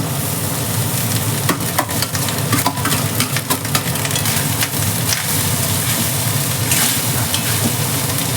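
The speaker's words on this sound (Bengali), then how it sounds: "ফ্রাইড রাইসের মধ্যে সমস্ত কিছু ভাজা হয়ে গেছে।" Fried rice sizzles loudly in a pan, a dense continuous frying hiss with repeated scraping and stirring clatter, close and steady throughout.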